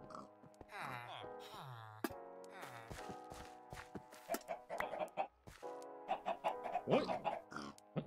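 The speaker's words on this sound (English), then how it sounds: "Where's that chicken dying?" Repeated clucks and squawks from a dying chicken in the video game Minecraft come in irregular bursts, mixed with other game sounds and what may be voices.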